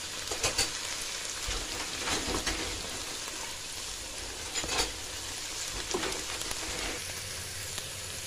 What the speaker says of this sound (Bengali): পেঁয়াজ আদা রসুন ভাজা হয়ে গেছে, সুন্দর একটা এরোমা বের হচ্ছে।